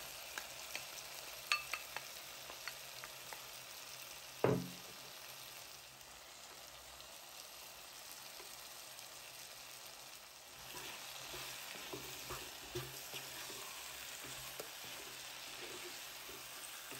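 Okra fries in a pot, a faint, even sizzle running throughout, broken early by a sharp knock and some scattered taps and stirring noises.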